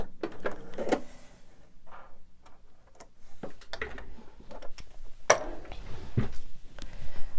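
A sewing machine stitches a fabric piece onto a leader ender, with a few short bursts of fast mechanical ticking and clatter separated by pauses, close and moderately loud.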